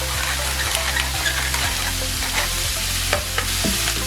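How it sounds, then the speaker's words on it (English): Tofu migas with ground cumin and black pepper frying in a pan, a steady close sizzle with soft stirring scrapes running throughout, no voices. "I'm going to stir those spices in, and then I'm going to let it brown for about 10 minutes"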